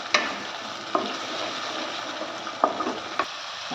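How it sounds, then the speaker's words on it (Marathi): Tomatoes sautéing in oil for a phool makhana curry, a steady sizzle broken by a few sharp scrapes and clinks of a stirring spoon, no voices. "आता हे छान आपण परतून घेऊया टमॅटो तेल सुटेस तवर तो चांगला परतून घ्यायचा"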